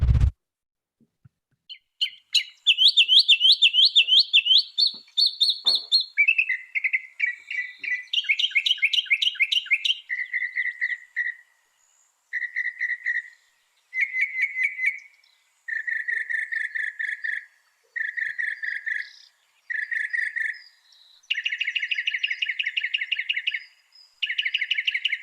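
A bird sings a series of clear, repeated phrases, close and bright against silence, with trilled chirping bursts separated by short pauses that grow more regular toward the end.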